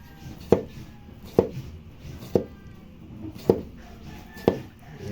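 A knife slices through food on a cutting board in a home kitchen, five distinct, evenly spaced thuds about a second apart, close and clear over quiet background.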